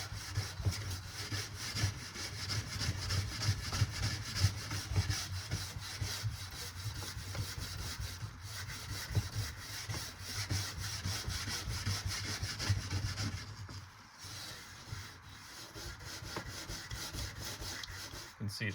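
A wire brush scrubs wax off a ski base outdoors in long repeated scraping strokes, steady and close, with a brief quieter pause near the end and faint wind noise.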